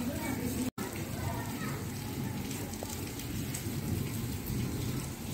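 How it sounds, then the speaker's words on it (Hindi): Steady heavy rain pours down in a continuous, dense hiss, close and even throughout, during flooding in Balrampur. "और अभी देखिए फिर से बारिश शुरू हो गई है"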